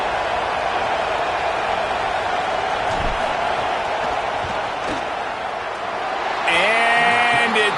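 Stadium crowd noise in a college football video game as a field goal lines up, a loud continuous roar of spectators with a few thuds, then a rising synthetic tone near the end, with a commentator's voice over it.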